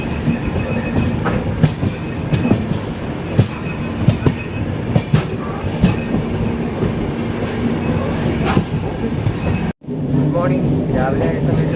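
Pothigai Superfast Express train running from Sengottai to Chennai, heard from on board as a steady loud rumble with rhythmic clickety-clack of wheels on rails, a brief dropout near the end, and someone speaking at times.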